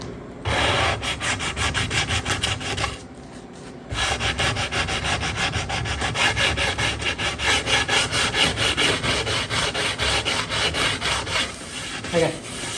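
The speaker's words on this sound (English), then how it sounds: "I get a Bondo scraper and wrap it around, wrap my sandpaper around it." Hand sanding of burlwood veneer on an Art Deco cabinet with 80-grit paper wrapped around a Bondo scraper: steady, close, rhythmic rasping strokes running almost continuously, with a brief pause early on.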